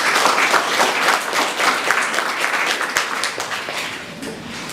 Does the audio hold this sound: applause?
yes